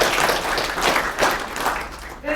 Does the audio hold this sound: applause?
yes